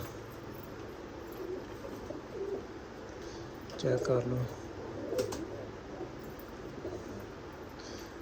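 Pigeons coo softly in a loft, a few low calls standing out amid background noise, while someone speaks briefly.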